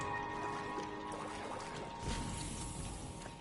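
Water draining away in the video game Ether One, a continuous rushing, pouring flow with a low mechanical hum beneath, swelling slightly midway and staying steady, no talking.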